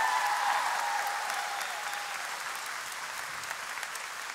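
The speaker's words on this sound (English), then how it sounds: "clap for them" A large crowd at a school district employee convocation applauds, forming a dense, even wash of clapping that holds steady and slowly eases over about four seconds.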